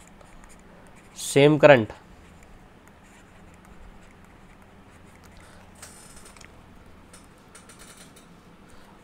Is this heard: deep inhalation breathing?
no